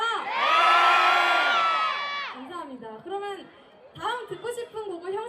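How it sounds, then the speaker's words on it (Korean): A crowd at a university festival concert cheers and screams loudly, a sustained high-pitched roar that swells and then fades, followed by scattered shouts and chatter from the audience. "다음 무대까지 여러분 계속 큰 함성 질러주실 거죠?"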